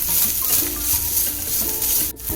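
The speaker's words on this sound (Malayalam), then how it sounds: "ജീരകം ഇതിലോട്ട് തേങ്ങ ഒരു തണ്ട് വേപ്പൻ ഇത് നല്ലപോലെ നമുക്ക് വറുത്തെടുക്കണം" Cumin, grated coconut and curry leaves fry in a pan, giving a steady close sizzle broken by bursts of stirring and scraping, with a brief sharp clatter near the end.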